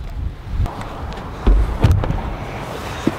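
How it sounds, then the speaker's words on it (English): Gusty wind blowing outdoors in the Colorado mountains, buffeting the microphone with uneven low rumbling surges and a few stronger bursts, no voices. "It is so windy."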